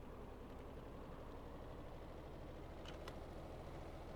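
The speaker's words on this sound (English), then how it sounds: "Start the engine, please." A train engine in the game Stormworks runs at a steady low idle, a constant rumbling drone with no speech over it.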